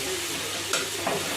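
Chopped onions sizzling in a pan with chilli in a home kitchen, a constant bright frying hiss with two quick stirring scrapes, close and alone without talk.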